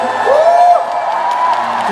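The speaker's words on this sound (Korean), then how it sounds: "연출가분과 박수 한번 쳐주시고요." A concert crowd in Seoul cheers and whoops for the backstage staff and director at an encore, a steady wash of voices with a rising shout standing out near the start.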